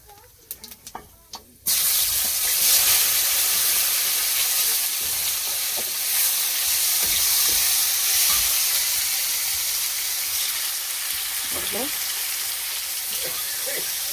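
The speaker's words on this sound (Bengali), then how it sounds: "5 ফোড়ন, টমেটো কুচিয়ে রেখেছি, টমেটো দিয়ে দিচ্ছি।" Chopped tomatoes hit hot oil with frying panch phoron five-spice, setting off a sudden loud sizzle after a few quiet clicks; the close hissing frying continues steadily to the end.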